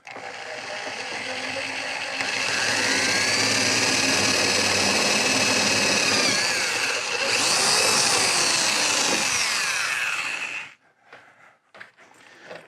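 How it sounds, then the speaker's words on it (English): Power drill boring a 3/16 inch hole for a 2003/2004 hood lift kit install, a loud steady whine that rises in pitch as it bites, runs about ten seconds, then stops, followed by a few faint clicks. "Now I'm going to drill the 3/16 inch hole."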